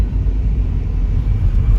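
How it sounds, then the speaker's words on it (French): A loud, steady low rumble of an airplane passing overhead in Paris, continuous and fairly close, with no talking. "Et un avion aussi."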